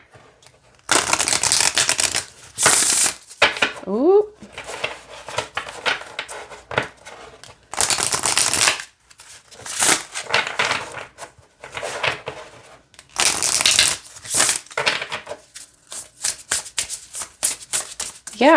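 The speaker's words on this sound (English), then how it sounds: "let's see how it shuffles" Celtic Spirit Oracle cards are shuffled by hand in repeated bursts of crisp riffling and sliding, close and clear, with brief pauses between bouts and a single short exclamation.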